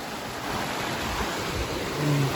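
Water rushing steadily over a creek spillway in south central Pennsylvania, a continuous broadband roar close by with some wind noise on the microphone and no talking.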